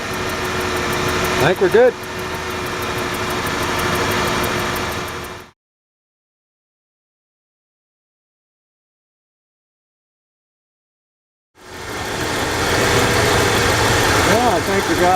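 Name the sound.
1994 Ford F-150 4.9L engine idling after misfire repair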